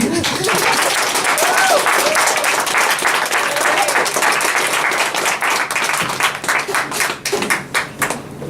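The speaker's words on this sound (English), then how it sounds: "Another round of applause for Hillary" An audience applauds after an MFA showcase performance, loud close clapping with some voices and whoops early on, thinning out toward the end into individual scattered claps.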